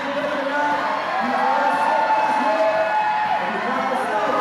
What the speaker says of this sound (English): some support from the crowd.